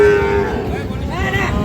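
A cow moos loudly and close by at a cattle market where Sahiwal bulls and calves are sold, one long drawn-out call over low crowd noise.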